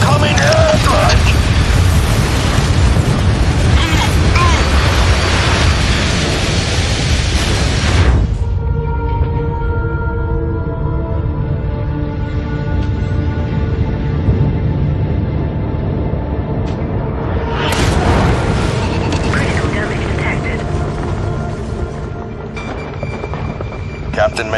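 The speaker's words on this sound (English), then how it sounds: "Incoming airstrike!" Airstrike explosions in the mech combat game MechWarrior 5: Mercenaries, a loud broadband roar that cuts off sharply, followed by a lower rumbling stretch and then a second heavy blast, with voices from the game heard over it.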